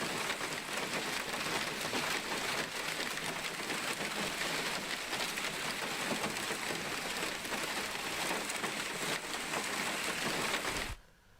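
Steady rain pours onto a surface across farmland in Chhattisgarh, with hail mixed into the downpour; a dense, continuous hiss holds at an even loudness throughout and stops abruptly just before the end.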